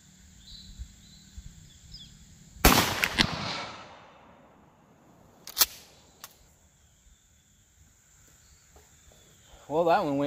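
A 12 gauge shotgun firing a sabot slug outdoors: one sharp, loud blast with a decaying echo, followed by a smaller crack, set against steady insect chirping in the background.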